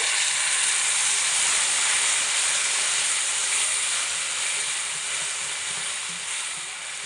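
About a cup of water goes into a hot pan of sweet-sour star fruit pickle, setting off a loud, continuous steamy hiss that slowly softens over several seconds, with no talking.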